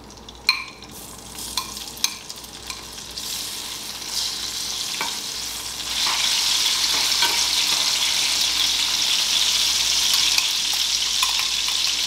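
Tomato and onion frying in a home-kitchen pan, a steady loud sizzle with a few early clinks of stirring, the hiss swelling and thickening partway through and continuing without talk.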